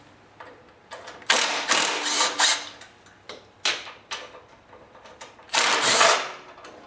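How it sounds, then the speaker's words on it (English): A ratchet wrench loosening two half-inch bolts on top of a Murray snowblower, clicking in fast bursts of loud, close rasping strokes separated by short pauses, with no one speaking. "I'm going to proceed to remove the two 1/2-inch bolts on top here"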